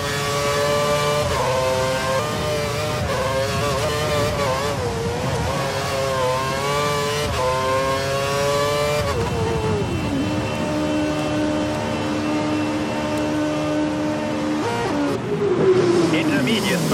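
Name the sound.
F1 2013 race car engine at full revs, video game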